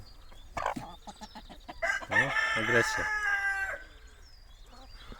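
On an organic poultry farm, hens and a rooster cluck and call in a busy, close chorus, with a crowing-like burst in the middle, while a person speaks briefly among them.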